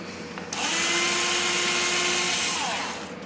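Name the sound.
drilling through a hole with a 1/16 inch bit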